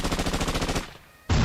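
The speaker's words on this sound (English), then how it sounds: "Gunshots." Rapid burst of automatic gunfire, a dozen or so quick evenly spaced shots that stop abruptly, followed after a short pause by a loud sustained blast of noise.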